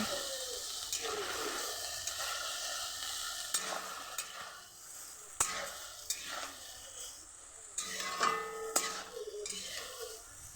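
Eggplant sautéing with turmeric, chili and salt in a pan, a soft continuous sizzle broken by repeated scraping stirs of a spoon against the pan, close and fairly quiet.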